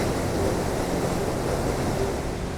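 Powerful waterfall in Wales thundering steadily, a dense continuous roar of crashing water that stays loud and even throughout with no voices.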